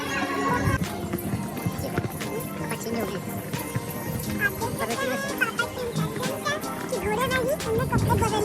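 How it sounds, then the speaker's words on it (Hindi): Horse being led along the Vaishno Devi pilgrimage route near Ardh Kuwari, hooves clopping in an irregular walking rhythm with a neigh, nearby voices and a busy crowd around. "आप देख सकते हैं घोड़े को चला रहा हूँ, घोड़े को कोई भी चला रहा है।"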